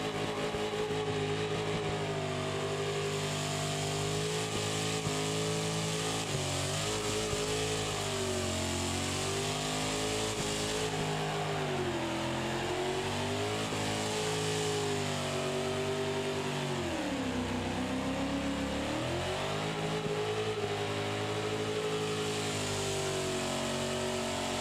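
Engine revving from a car in BeamNG during a high-speed entry, its pitch climbing and dipping with throttle, loud and steady throughout with a gritty, buzzing tone.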